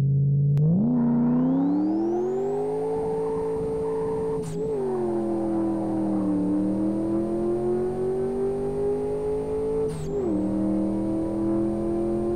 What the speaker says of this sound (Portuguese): Quando turbina, o bicho fica meio abafado, o ronco fica muito bonito